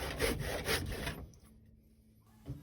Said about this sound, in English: I did the majority of the work with a handsaw